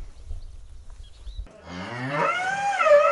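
A dairy cow lets out a loud, drawn-out bellow that rises and wavers, starting after a low rumbling pause and sounding close and alone.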